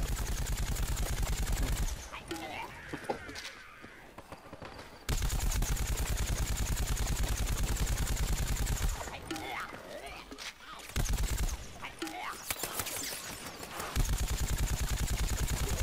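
Rapid bursts of video game gunfire from Plants vs Zombies, a third-person shooter, crackle in dense, steady runs that break off briefly twice, with someone talking over the shooting throughout.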